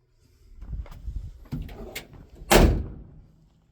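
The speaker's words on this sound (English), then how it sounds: "Door opens and closes nicely." Door of a 1966 Chevrolet C10 shortbed pickup opening with soft creaks and clicks, then swung shut in one solid, close thump that fades out; no voices.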